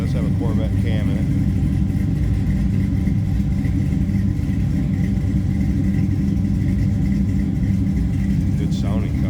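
A 1962 Chevrolet Nova fitted with a Corvette cam idles steadily close by, giving a loud, continuous low rumble throughout, with brief voices over it.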